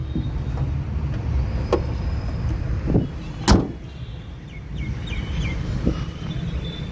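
A 2019 Hyundai Creta 1.6 SX petrol manual has its boot latch released and tailgate opened, giving a few sharp clicks and a louder clunk against steady low outdoor background noise, with no talking.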